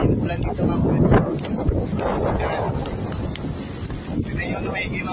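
Strong typhoon winds from Typhoon Ferdie roar in gusts and buffet the microphone, with rain in the background and a loud, rough, swelling rush that rises and eases throughout.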